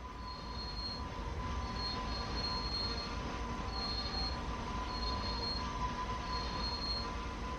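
A GE AC4400CW diesel locomotive rolls along in Train Sim World 2 on the Sand Patch Grade, with a steady rumble and a high wheel squeal recurring in drawn-out bursts, no talking.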